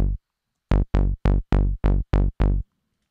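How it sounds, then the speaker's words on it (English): A short Serum synth pluck sounds once, then seven more follow in a quick, even rhythm, each note bright and snappy with a fast decay. "this is the sound that I've used for the pluck. It's a serum patch, also quite basic"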